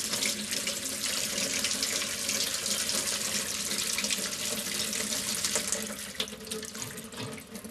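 A cold water tap runs into a sink, a loud, continuous gushing splash close by that stays steady before easing slightly toward the end, with no talking.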